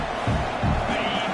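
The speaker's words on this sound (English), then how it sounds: "This crowd, full throat, spreading the eardrums and letting them know it's going to be a long day" A full-throated football stadium crowd at a UCLA versus Texas college game, a dense, steady roar that swells briefly without pause, loud and enveloping, with a commentator's voice mixed in.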